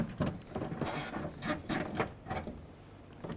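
Wrench work loosening 11mm nuts inside the door of a 1997-2003 Ford F-150 during window regulator replacement, giving repeated close metallic ratcheting clicks and rattles in short irregular bursts with no talking.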